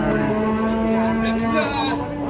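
A large cow lets out a long, loud, low moo with a steady droning tone, close by, with faint background noise around it.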